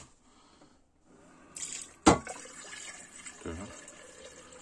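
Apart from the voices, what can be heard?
pouring water into a Xiaomi smart electric kettle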